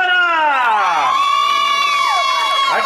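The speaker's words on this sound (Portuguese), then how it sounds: "Palmas pra Ana!" A crowd at Ana's birthday party in Vila Prudente cheers loudly and steadily, with rising and falling whoops and shouts carrying over the whole stretch.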